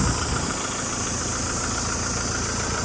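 A 2023 Kubota M6040 tractor engine idles close by with a loud, steady, rough diesel rumble and no pauses, with no voices over it.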